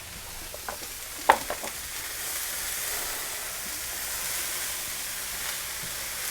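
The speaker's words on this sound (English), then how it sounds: "we're gonna let this cook for a minute or two, just stirring it around" Plant-based hash browns with red pepper flakes fry in a pan with a steady, even sizzle, and a few light scraping knocks from stirring come near the start.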